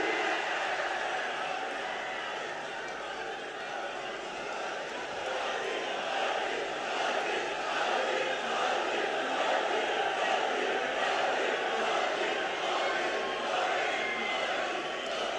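A large crowd at a political rally in Maharashtra applauds and cheers to welcome Prime Minister Narendra Modi, a dense, steady roar of clapping and voices that holds at a constant level throughout.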